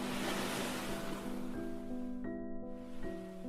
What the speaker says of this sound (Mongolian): Далайн давлгаа улам ширүүсч, онгоцыг бүчин авах үед